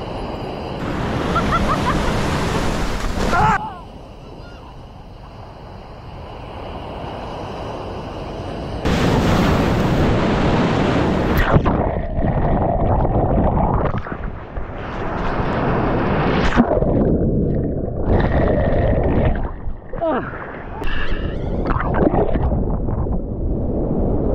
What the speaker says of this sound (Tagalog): Lalaki ng alon mga katinik.